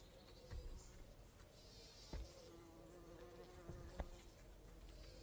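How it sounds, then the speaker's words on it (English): Faint buzzing of bees outdoors, a low steady hum with occasional louder passes close by, quiet overall. "with the sound of bees and nature around you as well"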